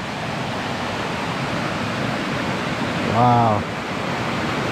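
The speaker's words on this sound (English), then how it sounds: "I mean, there's a waterfall here." Broadband rushing water from a waterfall spilling over a beaver dam, a steady roar holding at even loudness throughout, with one brief spoken exclamation near the end.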